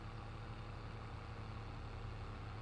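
A tractor engine in Farming Simulator 22 holds a steady, low idling drone with a faint mechanical rumble, continuous and unchanging throughout, with no talking.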